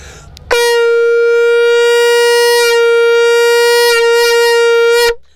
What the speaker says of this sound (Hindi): 6 इंच का संग जो है ना कम से कम यानी कि बजने में थोड़ा आवाज अच्छा होता है।